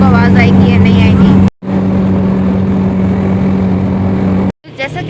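A noisy vehicle travels along the road, its engine and road rumble loud and constant and cutting out briefly twice, while someone talks over it at the start and again at the end.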